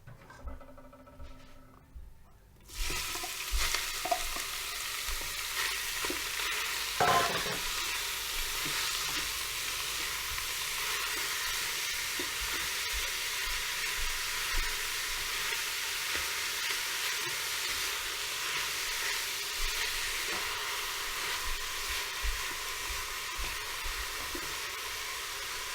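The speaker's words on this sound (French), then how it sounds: "nous allons donc commencer par faire dorer notre viande" Beef browning in a Cookeo multicooker for a moussaka-style dish, a steady close sizzle and frying hiss running throughout with occasional stirring scrapes, after a brief quieter moment at the start.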